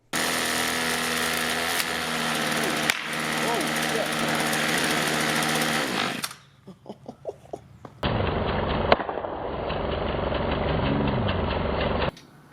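A small engine runs a generator to make electricity, droning loud and steady up close, then dropping away to a few sputtering pulses before a strong, muffled running hum returns and holds until it cuts off.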